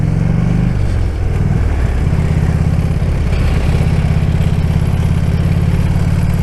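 A motorcycle engine runs steadily nearby with a loud, continuous low rumble and no voices over it.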